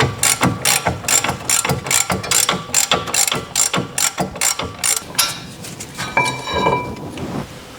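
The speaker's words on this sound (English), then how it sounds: "18mm socket, go ahead and remove those two." Ratchet with an 18mm socket removing caliper bracket bolts on a Chrysler 200 front hub, giving a close, loud run of rhythmic clicking strokes that slows and fades into lighter metallic tinkering.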